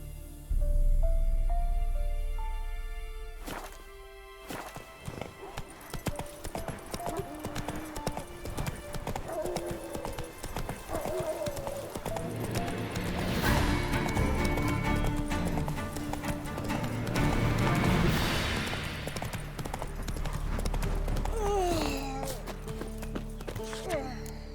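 Roach the horse's hooves in The Witcher 3 clop along at a riding pace, with neighs, music and other game sounds layered over the steady hoof rhythm.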